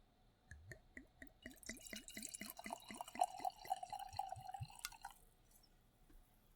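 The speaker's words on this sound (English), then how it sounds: "now I'm going to pour into the glass" Sake poured into a glass, a rapid run of close, bright liquid drips that thickens into a steady gurgling trickle before stopping, then a quiet tail.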